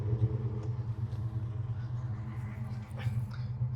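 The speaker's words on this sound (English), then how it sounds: "Let me give it some gas" Whipple supercharged Chrysler 300 SRT engine on a slipping belt, a low, rough, lumpy rumble with a faint stumble as it tries to take gas, close and fairly steady.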